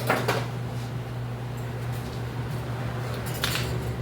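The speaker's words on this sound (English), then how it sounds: "I'm going to drop a little spoon and my whisk." A small spoon and a wire whisk are dropped in a home kitchen while tomato sauce for meatballs is being made, giving two brief metallic clatters, one at the start and one near the end, over a steady low appliance hum.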